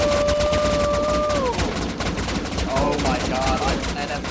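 Players in a video game fire guns into the air together, a dense stream of overlapping gunshots heard under game sounds and voices, with a tone sweeping down early on.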